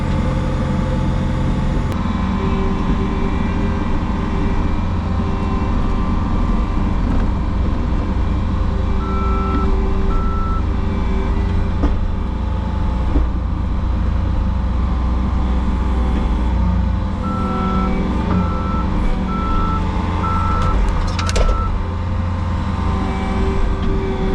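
A dump truck runs on a residential drainage-repair job, its engine rumbling loud and steady throughout while short bursts of high reversing beeps come in twice, faintly, over the machinery.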